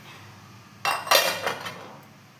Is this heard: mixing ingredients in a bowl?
yes